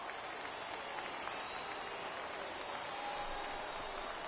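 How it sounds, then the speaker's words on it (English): A thinned-out afternoon crowd at a Marlins versus Phillies spring training baseball game applauds steadily as it rises to its feet, a continuous distant wash of clapping without talk. "Now what's left of this crowd this afternoon gets to their feet."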